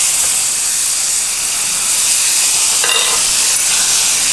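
A steak sears in garlic and herb butter in a very hot pan, giving a loud, steady, dense sizzle that fills the whole clip, with a brief sharper crackle near the end and no talking.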